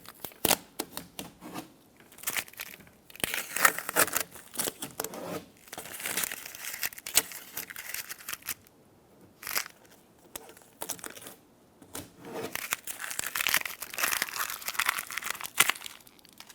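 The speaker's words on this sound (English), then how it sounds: "we can go ahead and take the tape off the window" Tape being peeled off the window glass of a 2007-2015 Mazda CX-9 rear door during handle replacement, loud close crinkling and tearing in uneven bursts separated by brief pauses, with no voices.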